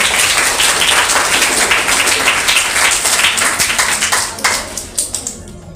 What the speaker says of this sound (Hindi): ताली।